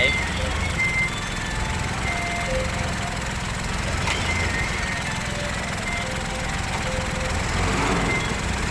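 A tractor engine drones steadily in the background at a road-building site where soil is being spread, a constant low rumble that runs throughout without a break.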